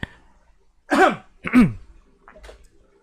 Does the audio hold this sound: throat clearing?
yes